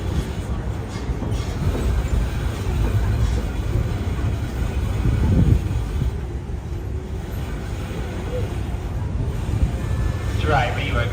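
Disneyland Resort tram running en route to the main entrance plaza, a steady low rumble of rolling wheels and motor with broadband road noise throughout, a faint squeal near the end, with voices underneath.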